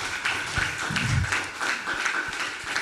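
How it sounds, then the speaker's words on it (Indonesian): An audience claps at the close of a university debate session, a dense, steady patter of hands that continues evenly throughout without speech. "Kita beri aplaus."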